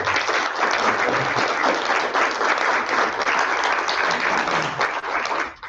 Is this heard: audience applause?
yes